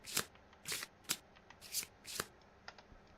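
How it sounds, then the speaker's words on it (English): Someone shuffles a deck of cards for a board game session, making several quick riffling bursts in an uneven rhythm, close and crisp against a quiet room, with no voices. "shuffle the AI discard pile into the AI deck"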